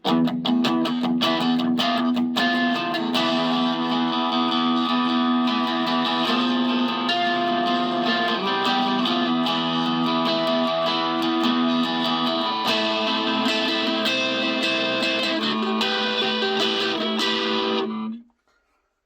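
Electric guitar played through a mini amp (Blackstar Fly or Boss Mini-Katana) on its crunch setting, all controls at 5, crunchy distorted chords strummed steadily for about eighteen seconds before cutting off abruptly.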